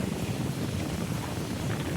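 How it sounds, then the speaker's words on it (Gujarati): Strong wind gusting outdoors, a loud, continuous low rumble buffeting the microphone with no clear break or talk. "પવન એવો મિત્રો આવે ને જોરદાર"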